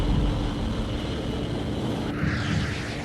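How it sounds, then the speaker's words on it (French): A Rafale fighter jet takes off near an aircraft carrier south of Marseille, with a steady loud roar of engine noise and a sharper, brighter rush that rises partway through. "Tout était prêt, donc j'ai décollé pour être à peu près à l'heure."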